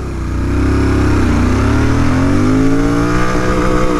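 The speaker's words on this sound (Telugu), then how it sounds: "స్టార్ట్ చేసే ముందు మీరైతే ఫస్ట్ దీనిది ఎగ్జాస్ట్ నోట్ ఇనండి" A GT 650 motorcycle accelerating hard in first gear, its exhaust note rising steadily in pitch, loud and close, with the engine's drone continuous throughout and no talking.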